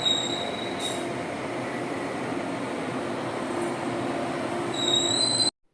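A train pulls out of Coimbatore station, its wheels squealing in high, sustained tones over a constant rolling rumble that swells slightly before cutting off.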